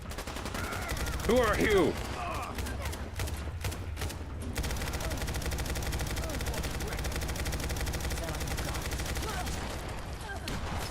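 Video game gunfire keeps pelting the player in rapid bursts and a steady dense crackle through the whole stretch, with a short spoken line and other voice bits near the start.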